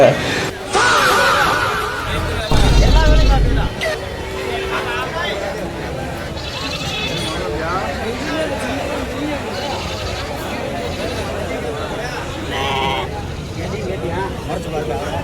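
Livestock market in Vadipatti near Madurai, with goats and sheep bleating in bursts close by amid crowd chatter, talking and passing vehicle noise.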